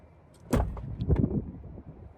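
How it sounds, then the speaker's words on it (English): A Tesla Cybertruck door being shut: one solid thud about half a second in, followed by a brief rattling settle and quiet interior ambience. "Here, and we'll shut the door."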